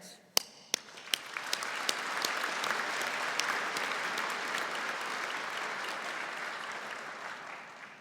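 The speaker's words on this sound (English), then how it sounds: "Let's keep the applause going" A convocation audience applauds graduates at a college ceremony: a few loud, distinct claps open, then a large crowd's dense, sustained applause fills a big hall and slowly tapers.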